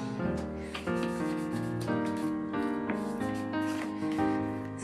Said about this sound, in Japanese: ここのところは磨くんですよ